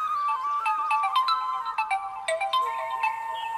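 A mobile phone ringtone plays a clear, melodic electronic tune of repeating notes, steady and close, sounding alone without any talk.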